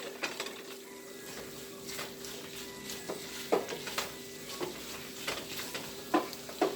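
Chicken frying in a pan for Chinese chicken fried rice, a soft steady sizzle broken by repeated scraping, clacking stir strokes from a utensil, fairly quiet and without voices.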